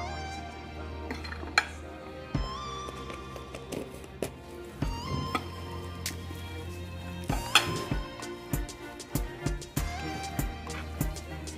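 Spicy poke tuna salad being stirred in a bowl with chili powder, a utensil clinking and tapping against the bowl in an uneven series of light scrapes and knocks, close by with no talk.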